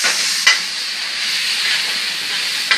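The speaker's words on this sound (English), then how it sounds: "I'm going to stir it up." Chicken and dumplings being stirred in a pot, a continuous close steamy hiss and sizzle with a sharp scrape at the start and another near the end.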